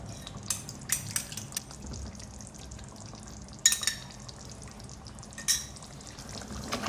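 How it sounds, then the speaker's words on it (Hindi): Whipped yogurt sizzles softly as it is fried into onion gravy with mutton for aloo gosht, with a low steady hiss broken by occasional scrapes and clinks of a spoon stirring in the pot. "मैं इसमें दही डाल के भुनाई करूँगी इसकी।"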